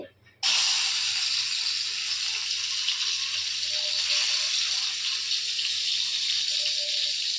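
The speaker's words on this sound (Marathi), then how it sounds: "तर बघा, मी लसूण आता टाकलेला आहे" Garlic dropped into hot oil on a flat iron tawa where dried bombil fish is frying, bursting into a loud, steady, close sizzling hiss that starts abruptly and holds evenly throughout.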